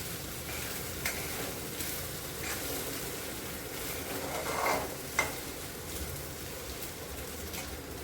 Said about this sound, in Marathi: आता आपले बटाटे झालेले, आपण यात साबुदाणा घालतो.